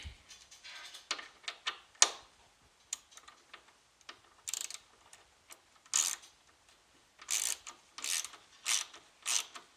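A hand ratchet works a 10 mm bolt on the stock air intake of a Dodge Challenger. Quick bursts of clicking pawl ticks come up close and fairly faint, with short pauses between the runs and no voices.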